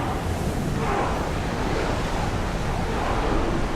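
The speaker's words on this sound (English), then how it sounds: "Feel that wind!" Wind and ocean waves rushing past a ship under sail in Assassin's Creed Odyssey, a loud, dense, continuous roar of surf and gusting air with no talk.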